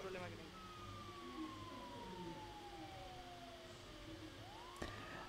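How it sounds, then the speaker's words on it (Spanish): Ambulance siren in a GTA video game, a faint distant wail that glides slowly downward in pitch, then a brief rising tone near the end over low steady background noise. "Voy a buscar la ambulancia, te la tiro para acá."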